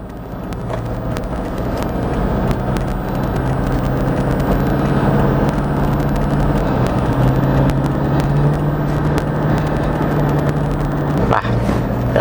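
A 2013 Toyota Fortuner 3.0 V 4WD on a test drive gives a steady, droning engine hum and road rumble from inside the cabin, constant throughout with no talk.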